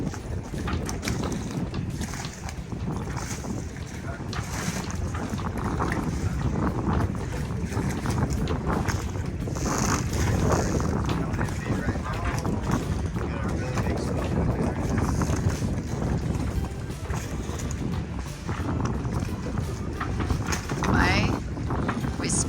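A sailboat rolls in an ocean swell while wind buffets the microphone and water rushes past the hull, with occasional voices in the background.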